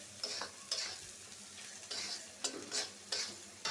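Onions and spices fry in a pan with a soft, steady sizzle, broken by a few scraping stirs of a spoon, faint and close, with no voices.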